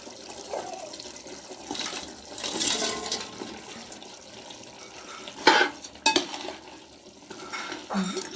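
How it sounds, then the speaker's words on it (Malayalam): Fried chicken stirred into a boiling curry gravy: a close spoon scraping and clinking against the pot, with wet sloshing and a few sharp metallic knocks, under a steady bubbling hiss, no talk. "ഇളക്കി കൊടുക്കാം."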